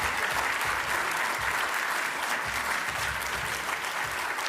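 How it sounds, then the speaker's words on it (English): Steady, full applause from a summit audience honouring staff and board members, a continuous wash of many hands clapping throughout with no break. "we all need to stand and give a round of applause for all of our Second Nature staff and all of our board members"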